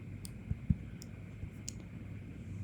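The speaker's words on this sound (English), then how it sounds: "make a double click to install" Computer mouse clicks while installing Roblox on a Mac: two quick, close clicks that form a double click, then a few faint ticks over quiet room hiss.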